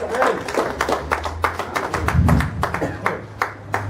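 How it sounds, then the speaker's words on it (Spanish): Scattered clapping from a church congregation, irregular hand claps that are fairly close and moderately loud, with a low murmur of voices. "¿Cuántos dan un aplauso al Rey?"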